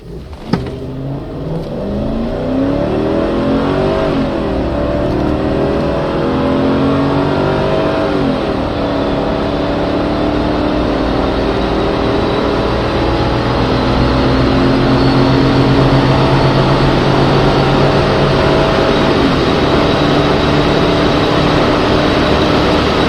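A 2001 Mercedes ML55 AMG SUV accelerates hard on a test drive, its engine roaring loud and close as the pitch climbs steadily through the revs for over twenty seconds without a voice.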